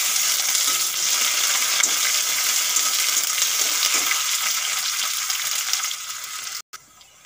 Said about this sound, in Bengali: তেল গরম হয়ে গেছে, ফোড়নে দিয়ে দেবো আমি জিরা, তেজপাতা দুটো শুকনো লঙ্কা, একটা কেটে রাখা পেঁয়াজ দিয়ে দেবো।